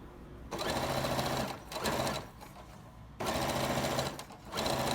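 A sewing machine stitches a long skirt in bursts, its motor whirring loud and close, pausing briefly between runs of stitching.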